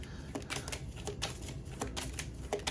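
Tarot cards are shuffled in quick, crisp bursts of riffling and tapping, close and fairly quiet, with irregular pauses between the flicks.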